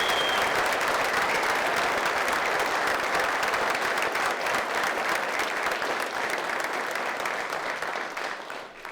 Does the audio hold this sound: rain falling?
no